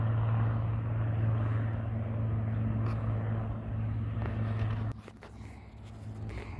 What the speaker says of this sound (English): Helicopter pulling in.